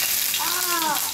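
Mustard-seed tempering spatters briefly in hot oil for a Marathi stuffed brinjal dish, a short, close sizzle with a voice talking over it.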